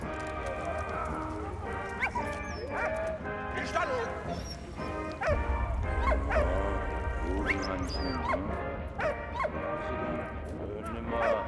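A dog in the World War I video game Valiant Hearts barks, yips and whimpers in rapid repeated bursts with game sounds and crashes, while a player talks over it.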